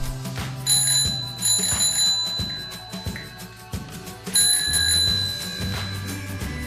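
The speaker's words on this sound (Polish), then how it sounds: "Dzwonek założony." A freshly fitted bicycle bell rings nearby in bright metallic bursts, repeated several times with short gaps between them, and no one talks.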